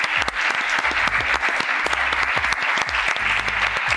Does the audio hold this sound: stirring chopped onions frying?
no